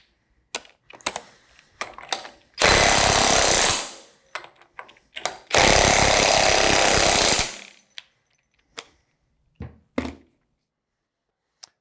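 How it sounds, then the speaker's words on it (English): An impact wrench with a socket removing the rotor nuts on a Waukesha Universal 2 PD pump, two loud, sustained rattling bursts of hammering, each lasting over a second, separated and surrounded by scattered clanks and knocks of tool handling. "You're going to want to use your impact wrench and the correct size socket."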